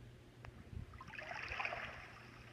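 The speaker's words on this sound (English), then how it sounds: "The ocean sounds nothing like the ocean. I was like, that sounds like a lake." A Sleep Pillow sound machine plays its ocean setting, a faint, soft wash of water with gentle lapping, more like a calm lake than surf, heard alone at low volume.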